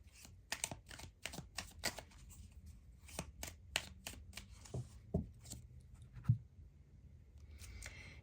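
Tarot cards from a Druid's Wisdom deck are shuffled and drawn in a quiet room, giving a run of quick, crisp flicks and riffles close by, then a few softer taps and slides as cards are laid down.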